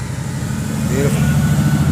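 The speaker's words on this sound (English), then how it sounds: "Here comes this AMG, have a look at this." A Mercedes-AMG race car at the Targa Castra event drives past, a steady low engine drone that swells slightly louder midway through, heard against continuous background noise.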